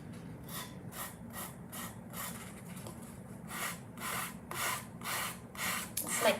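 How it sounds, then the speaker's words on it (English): A small nail file rasps along the wooden edge of a shelf riser in about ten quick, rhythmic back-and-forth strokes, close and moderately quiet, growing slightly louder toward the end. "You can even take a little bitty filing, you know, a nail file if you have it."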